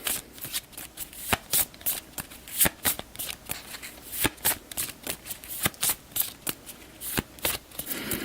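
Alien encounter cards from the board game Alien: Fate of the Nostromo being shuffled back into the deck, a steady run of crisp riffling card flicks and soft snaps, close and continuous with no talk.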